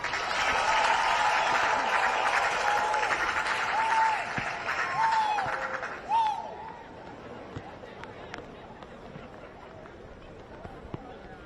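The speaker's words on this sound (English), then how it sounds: "let's give our mothers and grandmas a round of applause" An audience at a commencement ceremony applauds mothers and grandmothers with loud, dense, sustained clapping for about six seconds, with a few voices calling out over it, before it fades to a faint murmur.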